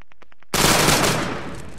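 A squad of soldiers opens fire on command in a platoon competition, a loud burst of overlapping rifle shots erupting after a half-second of quiet clicks and then rolling on as sustained, dense gunfire.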